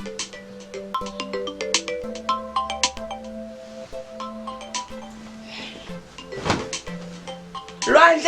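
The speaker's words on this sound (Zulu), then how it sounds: "ifoni yakho nayo iyakhala" A mobile phone ringtone plays a clear repeating melodic pattern for several seconds indoors, accompanied by a few thumps like a cupboard or door and a brief rustle near the end.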